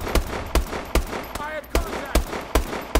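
Gunfire from Call of Duty: Advanced Warfare multiplayer, with sharp, regularly spaced shots cracking out about every half second, loud and punchy, with a brief electronic chirp in between.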